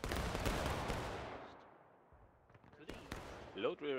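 Musket volley gunfire in the video game War of Rights, a dense crackling burst of shots at the start fading out, then scattered sharp reports and muffled voices near the end.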